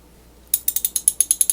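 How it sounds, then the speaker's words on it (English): Clicking of a Duralast 3/8-inch drive ratchet with sharp-toothed pawl, roughly ten crisp, evenly spaced metallic clicks in quick succession after a brief quiet start, close and pronounced. "It's a very pronounced click"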